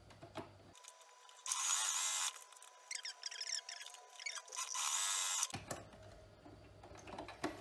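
Sewing machine stitching along the edge of a fabric face mask, a quiet motor whine running in two bursts of whirring with a short pause between, set against near silence.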